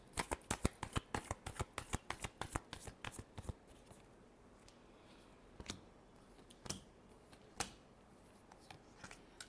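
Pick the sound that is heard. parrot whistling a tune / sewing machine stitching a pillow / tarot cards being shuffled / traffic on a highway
tarot cards being shuffled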